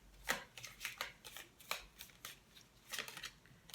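Tarot cards riffled and shuffled by hand in a series of crisp, papery bursts with short pauses between them, close and fairly quiet, with no talking.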